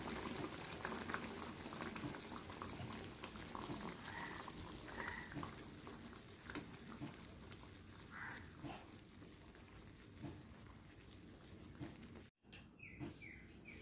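Vigorous bubbling of thick Kerala-style lentil curry boiling in a pot, steady and close, with a brief dip near the end.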